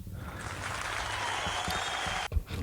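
An audience cheering and applauding, a sustained wash of clapping at moderate volume that cuts off abruptly near the end, followed by a thump and a brief voice.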